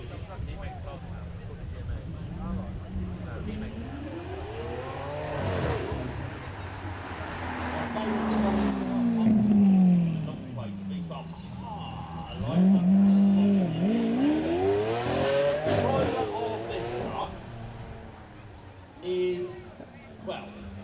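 A 6.5-litre Alpina B12 at a Beaulieu supercar weekend revs hard in two rising, swelling bursts, loud and close, over a steady murmur of voices and crowd noise.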